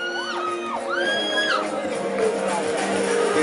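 A cheering squad whoops and shouts loudly at a beauty pageant, with rising and falling yells and cries layered over a busy crowd and an announcer's voice.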